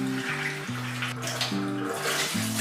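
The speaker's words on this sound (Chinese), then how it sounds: "泡发好的木耳也洗干净。" Soaked wood ear mushrooms rinsed under running tap water in a kitchen, a steady close splash and gurgle with soft background music.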